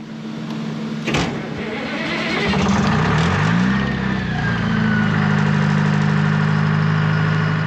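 An NC8 aircraft ground power unit serving an F-4 Phantom starts with a sharp click, then its engine spools up and settles into a loud, steady, droning run.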